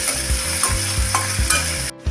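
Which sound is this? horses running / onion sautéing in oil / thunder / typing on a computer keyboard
onion sautéing in oil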